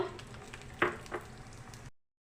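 Mustard seeds and other tempering spices crackling in about two spoons of hot oil in a pan on a gas stove, a close, steady sizzle broken by a couple of sharp pops and spits.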